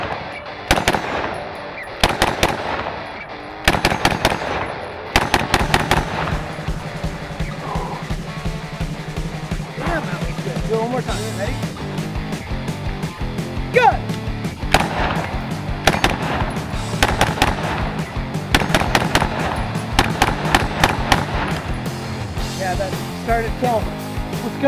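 Carbine rifle shots ring out in sharp bursts and rapid strings during a defensive shooting drill, loud and close, with several shooters firing and voices calling out between volleys.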